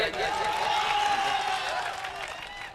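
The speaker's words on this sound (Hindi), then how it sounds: "एक बार बिहारी लाल अंबर के लिए जोरदार ताली बजाइए" Crowd at a mushaira poetry gathering in Azamgarh breaks into loud, dense clapping for poet Bihari Lal Ambar, with scattered cheers and voices mixed into the sustained applause.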